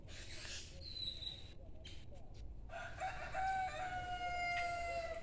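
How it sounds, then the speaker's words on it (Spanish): A rooster crows faintly in the distance in open countryside, its drawn-out call rising over quiet outdoor ambience. "Canta lejos el gallo,"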